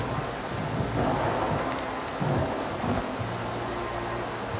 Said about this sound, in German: Das gewittert und stürmt